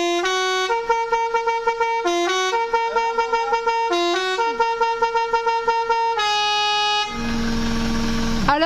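A van's custom car horn plays a series of loud melodic honks in a repeating tune, then ends with a harsh sustained blast mixed with noise.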